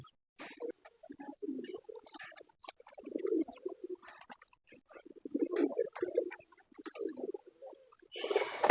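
Soft, low cooing calls repeat in short phrases close by, with quiet gaps between them and a burst of rustling at the end.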